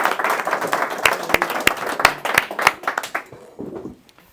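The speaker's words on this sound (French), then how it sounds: "On peut applaudir nos représentants au Sénat." Audience at a French political meeting in Orly bursts into applause, a dense burst of hand clapping with sharp individual claps standing out, thinning out and fading near the end.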